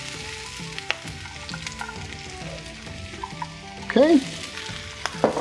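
Bok choy goes into a pan of frying garlic and hisses in a steady, close sizzle with a few scraping stirs, and a voice speaks briefly at the start.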